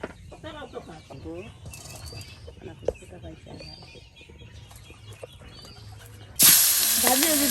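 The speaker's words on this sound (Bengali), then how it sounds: "এখন মাংস ভেজে নেওয়া হবে দেখুন" Meat hits a hot pan near the end, bursting into a loud, close sizzle after a stretch of quieter background sounds and voices talking.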